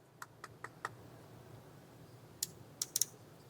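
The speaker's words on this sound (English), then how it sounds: "Click levers." A SuprentPRO Mecha hair clipper's levers click sharply, first four evenly spaced snaps, then a pause and a quicker cluster of three or four brighter clicks, close and alone in a quiet room.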